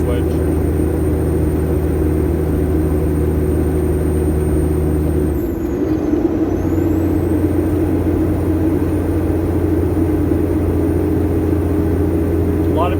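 Heavy truck with a twin-stick transmission climbing a hill after a gear change, its deep steady engine drone loud and continuous, with a brief dip at the shift before the low rumble settles back in.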